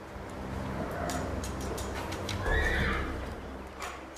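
A horse whinnies loudly and close by, its shrill neigh rising over hoof clatter and low background rumble in a drama scene with no speech heard.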